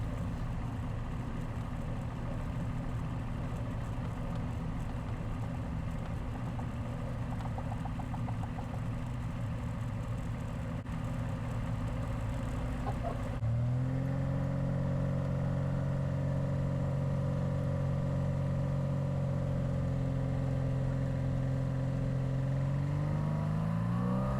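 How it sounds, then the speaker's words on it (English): Van's RV-10 light aircraft at an airport with a runway by a golf course, its piston engine droning steadily while taxiing, then swelling abruptly at mid-clip into a louder, rising takeoff roar with climbing tones; no voices. "the RV accelerates up the slight incline and lifts into the clear blue skies"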